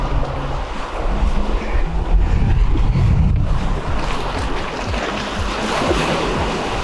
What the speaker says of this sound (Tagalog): mas malakas yung alon and parang may bagyo